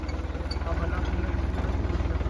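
A motorcycle engine idling close by, a steady, rapid low thumping pulse that holds even throughout.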